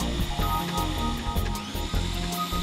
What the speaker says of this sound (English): and run the drill